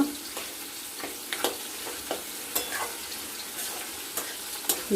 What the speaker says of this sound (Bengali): আমরা কিছুক্ষণ এটাকে নাড়াচাড়া করব, মাথাগুলোকে মিক্স করে দেব